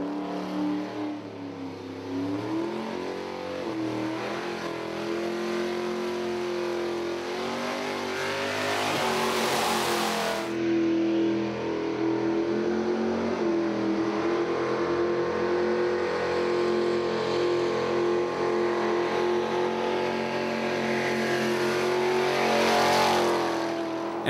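A Ford XA Falcon coupe with a 460 V8 revs hard on a racetrack during a track day, with a loud, sustained engine note rising and falling through gear changes, and no talk over it.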